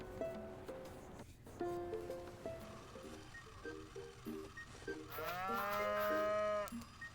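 Cartoonish cows mooing in a Harvest Moon farming video game, several short tonal moos in sequence, then a longer rising moo near the end, moderately quiet with no talk.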